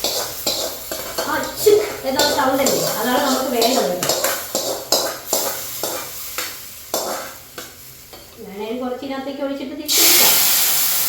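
Hot fried tempering is poured into a curry of jackfruit seeds, mango and drumsticks, ending in a sudden loud, bright sizzle. Before it come stirring and clinking of a pot, with someone talking throughout.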